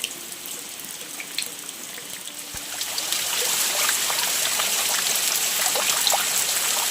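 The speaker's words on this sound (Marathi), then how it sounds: "पाऊस पडायला सुरुवात झालेली आहे." Rain beginning to fall on a home garden with leafy vegetable plants, a steady hiss of drops and trickling water that grows louder partway through and then holds, with no talking.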